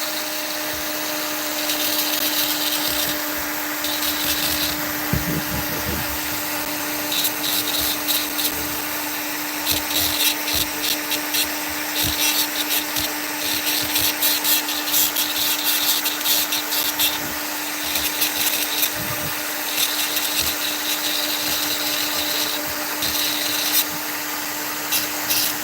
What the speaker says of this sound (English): I'm just using some of these grinder burrs, basically just to make a few marks.